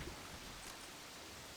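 Steady heavy rain in the video game Left 4 Dead 2, a constant faint hiss of falling water with no distinct drops or voices.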